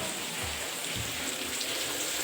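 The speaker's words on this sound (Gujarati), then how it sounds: "અને જો વરસાદ અવિરત ચાલુ છે" Heavy rain pours steadily on a wet day, a dense, even hiss with a few low thumps and no voices.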